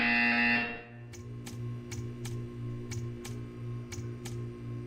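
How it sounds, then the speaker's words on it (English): A loud buzzer in the video game Portal 2 sounds at the start for about a second, then a quieter steady hum with a regular series of sharp ticks continues alone. "You will hear a buzzer."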